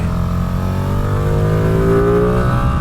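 A Streetfighter V2 motorcycle engine revs and climbs steadily in pitch, a loud continuous drone under heavy rushing wind, on a mountain road.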